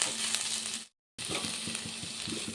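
Green chillies and onions fry in a pan with a steady, close sizzle. A short silent break interrupts it, then the frying resumes with light stirring knocks.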